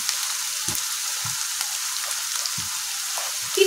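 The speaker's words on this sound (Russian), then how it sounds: "Поджарились лисички наши, грибочки." Chanterelle mushrooms frying in a pan, lightly sautéed: a steady, even sizzle runs throughout, close and moderately loud, with a few soft low knocks of the pan or utensil in between.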